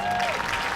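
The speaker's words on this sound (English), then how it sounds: "They're cheering for me" A studio audience on a comedy podcast claps and cheers in a dense, loud, continuous wash of applause, with a faint whistle-like tone early on.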